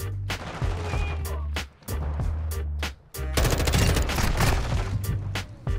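Fully automatic M4 rifle fire in Modern Warfare II, loud close bursts of rapid shots with a deep booming low end, broken by two short pauses before a final longer stream of fire.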